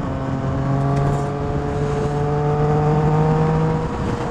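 A Yamaha XSR900 motorcycle pulls hard with a loud, continuous engine drone and a rich, humming tone, heard up close from the rider's position under steady wind noise.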